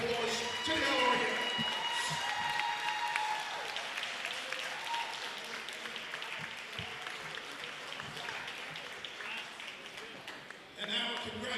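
A gym crowd at a JV basketball championship claps for the LREI team during the awards, a steady, moderately distant applause with shoe squeaks and scattered talking mixed in, swelling slightly near the end.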